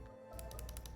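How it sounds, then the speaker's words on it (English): A quick run of number keys pressed on a computer keyboard, about five sharp, close clicks in rapid succession after a brief quiet moment, with no talk. "you can use the number keys on the keyboard"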